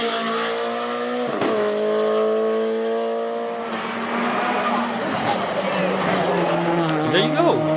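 A rally-style race car charges up the Falperra hillclimb course, its engine howling loudly and shifting through gears with rising and falling pitch and a brief sharp crack as it passes close by.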